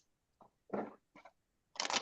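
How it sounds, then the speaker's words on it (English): Playing cards being shuffled by hand in a seven-shuffle routine, heard as four brief riffling bursts separated by short pauses, the last one loudest and longest, close to the microphone with no talking. "I'm gonna do the 7 shuffle"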